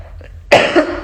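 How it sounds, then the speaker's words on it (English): A single throat-clearing burst, close and loud, comes from a woman hosting an online new moon circle. It rasps briefly after a quiet lead-in and ends with a short second catch. "So I had to clear my throat real quick."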